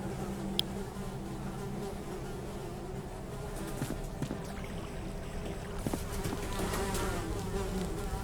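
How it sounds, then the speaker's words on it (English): Flies buzzing steadily inside a dark latrine in a fantasy role-playing game, a constant close insect drone with faint rushing water beneath and occasional small clicks. "Despite the buzzing flies"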